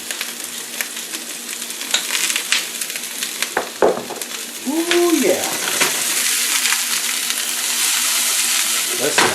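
Bratwurst sizzling and frying in a pan for Oktoberfest, a steady close crackle with clinks and stirring scrapes, while a person briefly murmurs.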